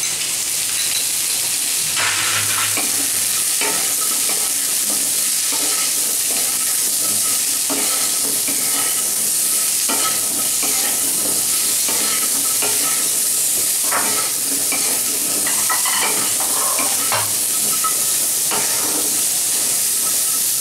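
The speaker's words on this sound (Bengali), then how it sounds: "ডাঁটাটা একটু ভাজা ভাজা করে নেব" Moringa drumstick pieces stir-fried in a pan for a Bengali-style vegetarian moong dal, with a steady sizzle and hiss and repeated scraping stirs throughout, close and fairly loud.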